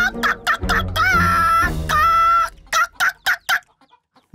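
Nervous cartoon chickens from an animated children's show cluck loudly in a run of sharp, close calls, with a couple of drawn-out crowing squawks in the middle and no talk.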